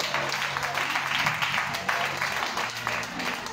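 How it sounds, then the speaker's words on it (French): A church congregation applauds and cheers the Lord, a dense, steady wash of clapping and crowd noise filling the space for several seconds. "Est-ce que tu peux acclamer le Seigneur?"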